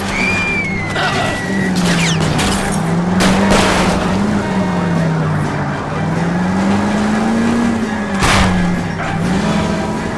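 A car engine drones and rises and falls in pitch through a tense L.A. Noire car chase, with tire squeals, thuds and a sharp crash near the end under fast action noise.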